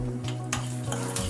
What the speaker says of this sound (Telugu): కొన్ని పల్లీలు, కొంచెం స్టవ్ మీడియంలో పెట్టి ఫ్రై చేసుకుందాం